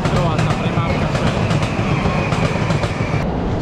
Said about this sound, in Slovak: Pozrite, je to metro